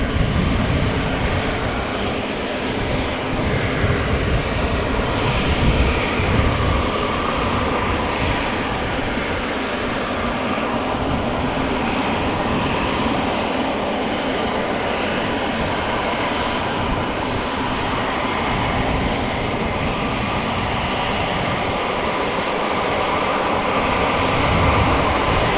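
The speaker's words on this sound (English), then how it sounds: "This is Qatar Cargo going to NA 777 freighter, 4 years old, first flight October 2019" Qatar Cargo Boeing 777 freighter, four years old, roaring steadily with jet engines at Amsterdam Schiphol Airport, a loud continuous broadband rumble and hiss sustained throughout, no voices.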